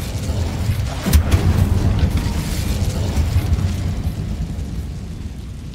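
An Incendio fire spell is cast in Hogwarts Legacy inside a dark mine. A sharp burst is followed by a low, rumbling fiery roar that lingers and fades slowly, with no talking.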